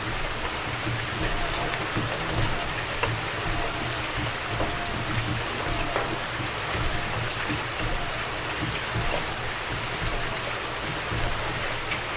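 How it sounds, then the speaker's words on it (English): Steady rain falls continuously, a dense even hiss with scattered drop ticks over a low rumble, like a stream or water running over a surface, with no voices. "the sound of the rain has not stopped"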